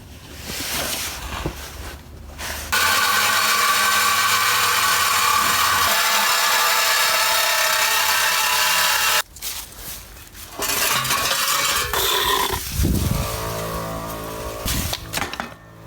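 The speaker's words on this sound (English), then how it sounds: "so I'm gonna pull that drive shaft out" Power tools at work removing the drive shaft from an Audi B6 A4 during an engine swap: a loud, steady whine runs for about six seconds, then comes a second long burst, with clanks and metal handling between and after.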